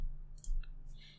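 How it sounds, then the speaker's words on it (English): A computer keyboard key is pressed with a quick light click, a couple of small ticks close by in a quiet room. "Hit U on the keyboard."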